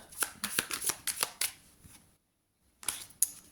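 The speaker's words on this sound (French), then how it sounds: "on mélange les cartes" Tarot cards are shuffled by hand in quick riffling bursts of crisp flicks, then a short pause of silence before a few more snaps of cards.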